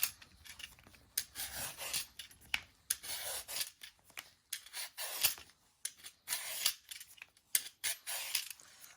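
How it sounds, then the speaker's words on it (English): Sweet potato being peeled by hand, a steady series of short, near scraping rasps repeating in quick strokes with brief pauses between them. "we're going to peel our sweet potato"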